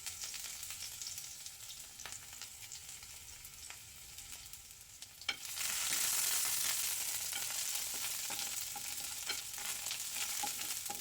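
Chopped garlic, curry leaves and split chillies fry in oil in a pan, a soft steady crackle that swells into a louder, fuller sizzle partway through, heard close and alone.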